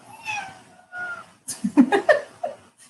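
A cat meows a few times, close by, followed by a burst of laughter and chuckling.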